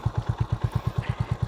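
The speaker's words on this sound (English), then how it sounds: "let's hear the exhaust note" A 2025 Honda CB350RS retro cafe-racer motorcycle idles, its exhaust note a steady, even chain of low thumping pulses, close and moderately loud with no talk.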